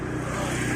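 A motorcycle engine turning over and running in a short burst, a steady low pulsing rumble heard close and alone.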